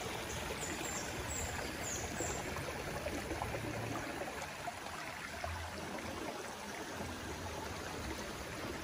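A small stream used for washing laundry flows softly and without pause, a low, even trickle and gurgle heard close by in open air with nobody talking.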